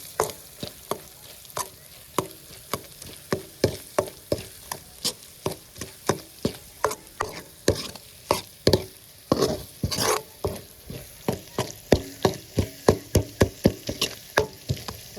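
Spoon scraping and knocking against a pan in a steady, brisk rhythm while bottle gourd bharta with Kashmiri chili is stirred, close and clear over a faint background sizzle, with no talking.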